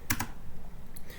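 A few quick keystrokes clack on a computer keyboard while a Linux terminal command is typed, close and crisp over a low room hum.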